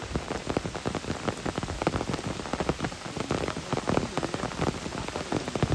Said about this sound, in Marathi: पाऊस तो मरणाचो हा